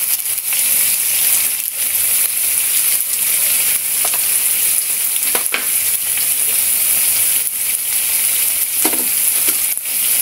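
Chicken curry fries in a pan with curry powder and pepper, giving a loud, continuous close sizzle and crackle, broken by occasional stirring clicks.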